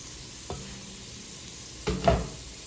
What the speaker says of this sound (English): Gonna give that a good stir.